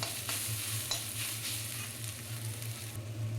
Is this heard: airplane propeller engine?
no